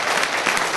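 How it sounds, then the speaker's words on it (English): Dense applause from a crowd at a county commissioners court meeting, a continuous wash of clapping heard close and loud. "Let's give everybody a big round of applause."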